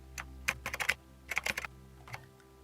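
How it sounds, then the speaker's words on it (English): Computer keyboard typed on in short bursts, clusters of crisp close key clicks with brief pauses between words, quiet room and no talking. "let's go to the search bar and type in Philadelphia"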